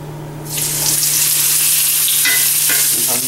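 A chuck roast hits a hot skillet with a little vegetable oil, and after a brief quiet start a loud, dense sizzle bursts up and holds steady, with a few sharper spits near the end.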